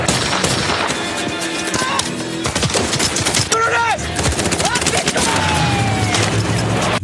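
Gunfire in an action film battle: rapid bursts of automatic weapons and single shots crackle loudly and densely, with whizzing ricochets and debris, sustained throughout at close range.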